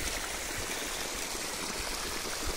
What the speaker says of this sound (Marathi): त्यावेळेस एअर निघाला आणि चालू झालं जोरात पाणी